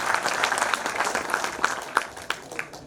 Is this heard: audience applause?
yes